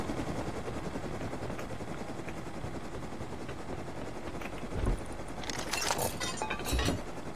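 Helicopter flying in a video game, a steady rotor drone throughout, joined near the end by a few sharp clinks and bangs, with no talking.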